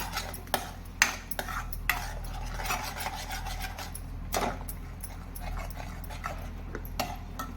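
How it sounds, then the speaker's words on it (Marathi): Onion, tomato and cashew gravy being sautéed in oil in a pan, with a steady low rumble of cooking and repeated sharp scraping and clinking strokes of stirring, fairly close. "आता आपण ही ग्रेव्ही तेलावर व्यवस्थित परतून घेऊया"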